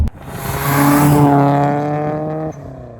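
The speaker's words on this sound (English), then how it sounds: "You hear the turbo noises so loud in the cabin." A 1998 Subaru Impreza WRX STI GC8 turbo engine revs up loudly from inside the cabin, its rising harmonic whine climbing steadily over about two seconds before the revs abruptly drop away.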